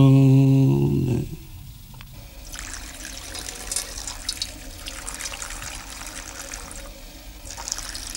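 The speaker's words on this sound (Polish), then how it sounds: "Woda." Water runs steadily from a tap into a sink, a soft continuous trickle and splash heard alone after a loud tonal sound fades out at the start.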